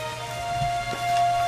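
Steady rain falls in the video game Tomb Raider, a constant soft hiss of drops hitting surfaces with a faint low hum underneath, continuous and fairly even throughout.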